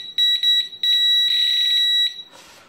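An electronic detector set to its most sensitive setting gives a loud, near, high-pitched tone that sounds as a few short beeps and then a long sustained beep before cutting off into soft rustling.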